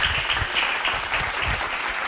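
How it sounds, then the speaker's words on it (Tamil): A church congregation claps together in sustained applause, a dense, even patter of many hands filling the room throughout. "கைத்தட்டுங்க ஒருத்தருக்கு"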